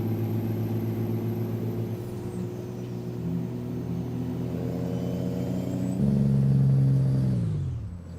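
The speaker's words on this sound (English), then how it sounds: "Very nice engine sound." A modded John Deere X9 harvester's engine in Farming Simulator 19, a steady loud drone with rising and falling tones, revving harder near the end and then easing off.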